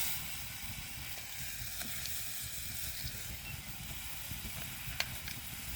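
A green chili sizzles in hot oil in a pan while a stuffed chili curry cooks, giving a faint, steady crackling hiss with small pops and a light clink near the end.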